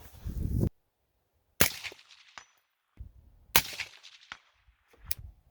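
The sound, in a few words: rifle shots of 77 grain bullets from an 18-inch gun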